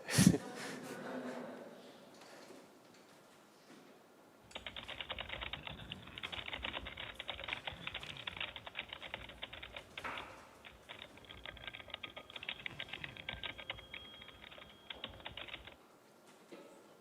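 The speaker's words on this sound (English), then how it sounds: "so mostly only the keyboard sound" Rapid continuous typing on a computer keyboard, close and crisp, a dense stream of key clicks lasting about ten seconds after a quieter opening.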